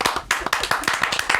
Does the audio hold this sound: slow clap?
yes